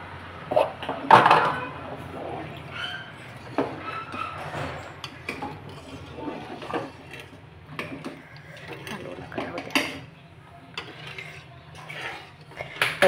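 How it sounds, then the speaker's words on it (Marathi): Water sloshes inside a mixer-grinder jar during rinsing, with scattered clinks and knocks of the jar and utensils against the sink, fairly quiet with some background noise. "हे मिक्सरचं भांडं ओतून"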